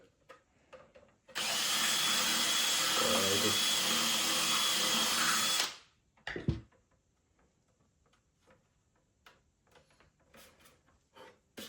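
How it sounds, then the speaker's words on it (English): A power drill runs continuously for about four seconds, boring and widening a hole in the plastic overhead cubby facia of a VW T6 van, then stops abruptly, leaving a thump and faint handling clicks. "you might need to just run the drill through a few times to open the hole up a touch."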